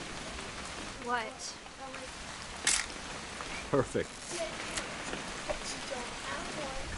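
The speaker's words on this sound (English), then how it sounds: "It's gonna rain the whole weekend" Steady rain falls throughout a scene in the video game What Remains of Edith Finch, a soft continuous patter, while characters speak over it and brief clicks and thumps punctuate the scene.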